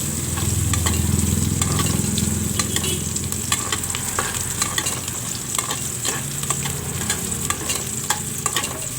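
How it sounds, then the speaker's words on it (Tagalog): Crushed garlic, sliced onions and ginger sautéing in a pan, a steady loud sizzle with frequent scraping and stirring clicks throughout, no voices. "nagisa lang ako ng mga spices, crushed garlic, sliced onions, ginger"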